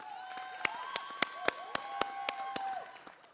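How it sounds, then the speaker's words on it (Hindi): An audience on the set of the TV dance reality show DID Battle of Champions claps for Kareena Kapoor Khan, with sharp separate claps coming in quick, even succession over a sustained tonal background. "Guys, तालियां रुकनी नहीं चाहिए for करीना कपूर खान"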